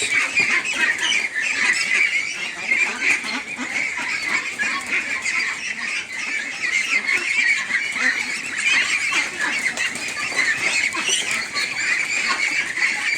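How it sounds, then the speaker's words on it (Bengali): Pekin ducks at a duck farm holding about a thousand birds, a dense continuous chorus of many quacks and honking calls filling the air at steady loudness, no talk over it. "এটা আমাদের ফার্ম দেখেন আমাদের হাঁস"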